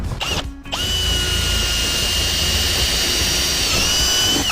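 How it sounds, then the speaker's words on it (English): An impact driver spins up after a brief pause and runs in one long, steady, high-pitched whir, loud and close, as it sinks a screw into pre-drilled wood, before winding down. "use an impact driver, and you can see it's sucked right down."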